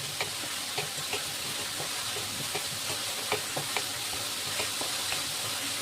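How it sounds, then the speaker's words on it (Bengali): Garlic and onion fry together in hot oil with a dense, even sizzle and scattered crackles and pops across the whole stretch, without talk. "এবার আমি রসুনটা দিয়ে দিচ্ছি তেলে, আর পেঁয়াজটাও দিয়ে দিচ্ছি। দুটোই আমি একসঙ্গে ভালো করে ভেজে নেবো।"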